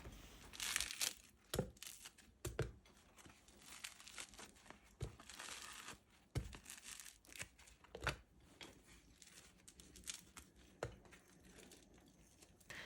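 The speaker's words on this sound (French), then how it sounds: "Je les déchire rapidement en morceaux pour aider le blender." Homemade bread slices torn by hand into pieces: repeated soft crinkling and ripping bursts at an irregular pace, close and fairly quiet, with no talking.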